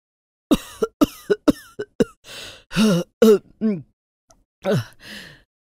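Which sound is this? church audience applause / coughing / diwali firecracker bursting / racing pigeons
coughing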